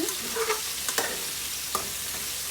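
Purple eggplant and pork stir-fry in hot oil with a constant loud sizzle. Occasional sharp scrapes and taps from the stirring cut through the crackling spatter.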